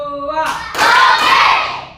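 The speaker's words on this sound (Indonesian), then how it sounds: "Tepuk 3. Tepuk 4. Tepuk 5." During an ice-breaking clap game, a group claps together in a dense burst of hand claps lasting over a second, right after a short spoken call.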